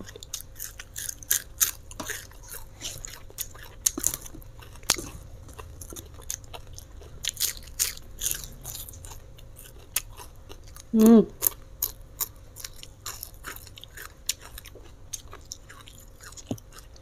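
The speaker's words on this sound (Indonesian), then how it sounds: "Ikan asin guys, renyah," Crunchy bites and chewing of crispy fried salted fish eaten with a meal, scattered short crackles close to the mic throughout, with one louder burst of noise midway.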